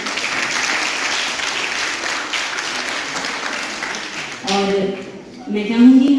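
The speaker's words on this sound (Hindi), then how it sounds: "इनके लिए जोरदार तालियां" Loud, sustained applause from the crowd at a school annual sports meet prize distribution, broad clapping that continues for about four seconds before a voice speaks over the tail end.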